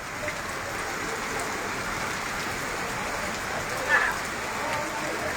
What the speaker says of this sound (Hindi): हीअ ॾिसो बारिश ॾिसो केॾी आहे